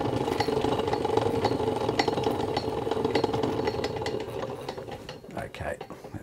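A Hexagon sewing machine made in Cleveland, Ohio winds a bobbin with a worn winder rubber, giving a steady, close mechanical whir and rattle that holds for several seconds and then eases off, with a voice speaking over it.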